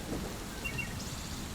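Heavy rain in an animated story, a dense steady wash of rainfall with a low rumbling undertone, continuous and fairly close.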